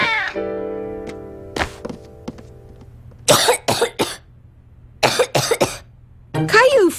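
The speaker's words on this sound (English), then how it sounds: "Caillou felt hot and was coughing" A young boy, a cartoon child who is sick with the flu, coughs in several short harsh bursts that come in clusters, with a musical background and other sounds between them.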